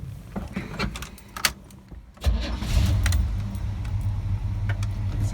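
A 1985 Chevy C20 truck starts after keys jingle, and the engine cranks briefly before catching and settling into a loud, steady low idle up close, with no talk over it.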